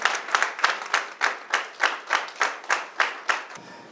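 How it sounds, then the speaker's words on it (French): A wedding crowd claps in steady unison for the pastor's wife, about a dozen loud, evenly spaced beats in a brisk rhythm, with no talking over it. "On acclame très fort Madame le Père"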